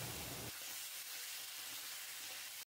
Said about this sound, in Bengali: দিয়ে তেলের সঙ্গে ভালো করে কষিয়ে নেব, কাঁচা গন্ধটা চলে যাওয়া পর্যন্ত।